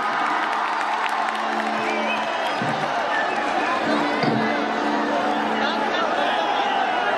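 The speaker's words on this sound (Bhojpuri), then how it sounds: "ताली बजा के आशीर्वाद दीजिए" An audience at a Bhojpuri stage event with a performer fills the space with dense applause and cheering, while an amplified voice speaks over the steady crowd roar.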